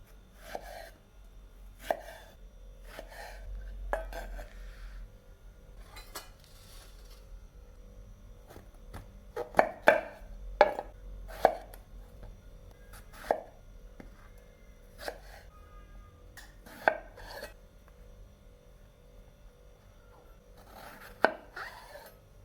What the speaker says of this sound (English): First, cut the eggplants like this.